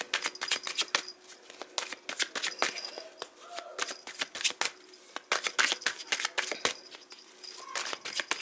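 Tarot cards being shuffled by hand in a quiet room, a steady run of dense, crisp riffling flicks and slaps repeating close up for several seconds with no talking.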